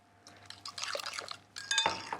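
Milk pours into a bowl of muffin batter made with oil, a short wet liquid stream with light clinks of glass, close and fairly quiet, no talking.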